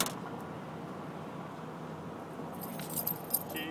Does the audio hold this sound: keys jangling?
yes